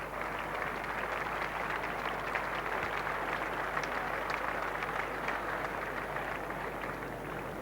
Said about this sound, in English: Just polite applause for the twos